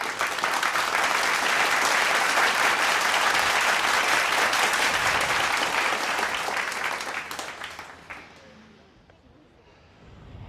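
A dense crowd at the end of a tunnel claps loudly and steadily, the applause holding strong for several seconds before thinning out and fading to quiet.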